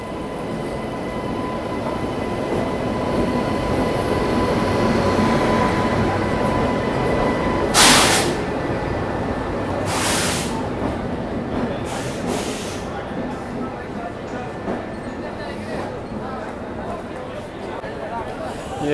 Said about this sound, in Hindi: अब जाके अपनी ट्रेन को लगाया जा रहा है नई दिल्ली रेलवे स्टेशन के प्लेटफॉर्म नंबर 15 पर